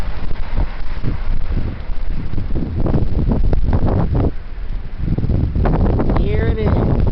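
Heavy wind buffeting the microphone in loud, rumbling gusts that rise and fall throughout, with a voice speaking over the roar.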